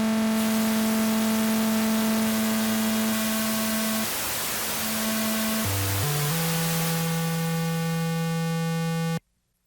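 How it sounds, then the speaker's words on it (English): A steady electronic drone of stacked buzzy tones from a UNO Synth Pro desktop synthesizer, a hiss of noise rising through it, the pitch stepping down late before it cuts off abruptly. "In Mixer, we can also bring up the noise."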